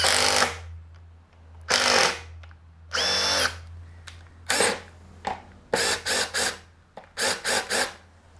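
A Makita 40V XGT impact driver in bolt mode 2 sends a screw into wood in a series of short, loud, close bursts of rattling hammering, each separated by brief pauses, with no talking.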